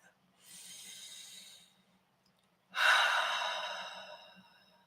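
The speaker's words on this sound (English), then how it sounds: "get comfortable and close your eyes and take a big deep breath" Two slow, deep breaths taken during a guided meditation in a quiet room, a long soft inhale followed by a louder, fuller exhale, close and alone with no talking.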